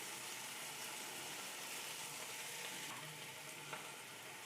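Spring onion, carrot and capsicum frying in a pan for masala pasta, giving a steady, close broadband sizzle that stays dense throughout, with a faint stir or clink near the end and no talking.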